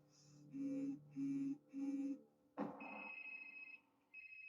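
A telephone rings in three even, buzzy bursts, then a sharp clatter as it is picked up, followed by a steady high electronic tone.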